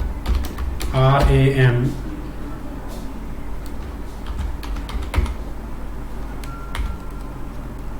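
A password is tapped out on a computer keyboard in a run of quick, close, crisp keystroke clicks spread through the clip, with a brief voice speaking near the start.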